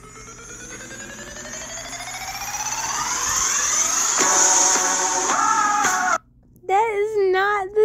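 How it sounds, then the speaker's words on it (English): Song with rapid electronic beeping, rising in pitch and growing louder over several seconds, then cutting out briefly before warbling tones return; a person talks over it. "The beeping is going so"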